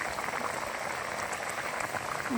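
Plum chutney bubbles in a pot, a continuous soft crackling patter like light rain, steady and close with no voices.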